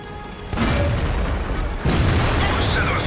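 Artillery fire in the World of Tanks video game, two heavy booms about a second apart, each hitting suddenly and rolling on as a loud, dense roar.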